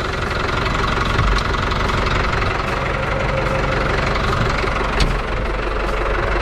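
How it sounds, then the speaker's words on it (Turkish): Tractor engine running steadily while plowing a field, a loud continuous low rumble with a faint knocking texture and no speech. "Şöyle güzel bir gün batımı eşliğinde şu tarlanın sürümüne devam edeceğim."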